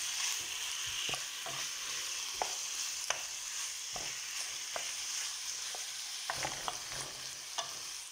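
Marinated pork being stirred in a pot for a Visayan pork stew, with soft sizzling under a series of sharp scraping clicks from the spoon at irregular intervals, close and fairly quiet, no talking.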